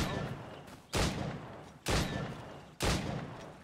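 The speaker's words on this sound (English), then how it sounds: "Shooting straight and true. Ah, shooting guns." Guns fire in Assassin's Creed Rogue, three loud booming volleys evenly spaced about a second apart, each decaying with a crackling tail, while a voice murmurs faintly underneath.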